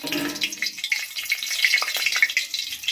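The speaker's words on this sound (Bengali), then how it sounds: "কড়াইয়ে গরম হয়ে গেছে তেল এখন দিয়ে দেবো দুটা শুকনো লঙ্কা" Two dried red chillies hit hot oil in a kadai while fish curry is being made, setting off a steady close-up sizzle and crackle with small spitting pops.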